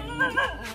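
Dogs at a pig farm give a couple of quick, close barks and yips in rapid succession, short and sharp against low background noise.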